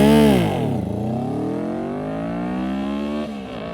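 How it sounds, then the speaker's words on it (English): A Benda BD500 V4 cruiser motorcycle with a loud exhaust revs hard up front, then falls back and climbs again through a second, sustained rev, heard up close with no one talking. "This bike is really loud. Every time I twist the throttle open, I'm just afraid that cops are going to come over"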